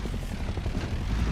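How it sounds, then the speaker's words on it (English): A helicopter in the Rust video game passes low overhead, its rotor a dense, steady chopping roar that fills the whole short stretch. "this helicopter's coming down through here"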